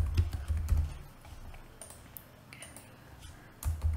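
Computer keyboard typing a variable name in a UiPath RPA workflow, with quick clustered keystrokes near the start and again at the end and sparser taps between.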